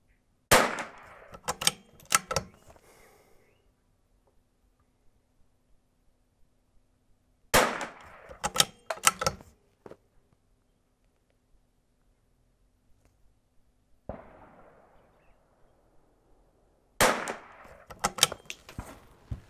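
Gunshots crack out in three separated volleys at an outdoor shooting range, each a burst of several sharp, loud reports with short echoing tails, divided by quiet pauses with faint background hum.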